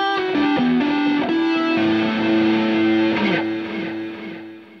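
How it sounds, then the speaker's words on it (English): Sustained electric guitar notes through a Guitar Rig delay effect ring out with echoing repeats trailing behind them, a lush, slightly distorted tone that fades gradually at the end. "Down here I have delay, because who doesn't like delay?"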